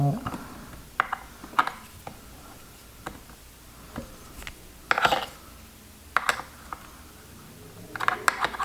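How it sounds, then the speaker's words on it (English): A bolt being tightened on a Kenmore Ultra Stitch 6 sewing machine, with irregular sharp clicks and ratcheting metal taps close by at varied intervals. "Tighten down the other bolt."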